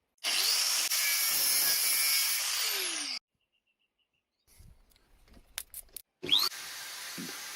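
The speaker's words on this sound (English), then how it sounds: "By holding the file firmly up against the end of the collar as it spins, you can quite easily make the ends perfectly parallel" A file is held against the end of a spinning bearing collar for a homemade gaming wheel, making a loud, steady high-pitched grinding rasp. It cuts off abruptly, then come a pause, a few faint clicks and handling sounds, and the grinding starts again.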